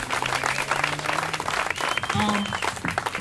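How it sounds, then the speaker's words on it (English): Applause from a crowd at a Rochester statue unveiling honoring Blanche Calloway, a steady dense patter of clapping running throughout with tonal whistles or cheers and voices mixed in. "it's important to give a round of applause to all of those folks"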